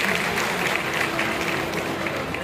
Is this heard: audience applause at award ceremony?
yes